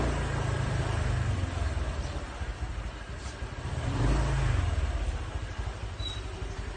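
Small Honda Click motor scooter engine warming up and revving in a couple of surges, a buzzy mid-pitched drone heard from nearby with no speech.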